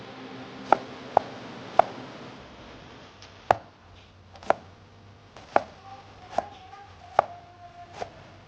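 A knife chops onions into small pieces on a board, about ten sharp, distinct knocks at an uneven pace, close and clear with a quiet room hum behind and no talking.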